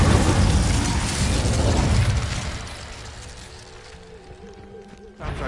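The Incendio fire spell from Hogwarts Legacy bursts loudly at the start, a broad whooshing blaze that fades over a few seconds into quieter game ambience, with a sharp thump near the end.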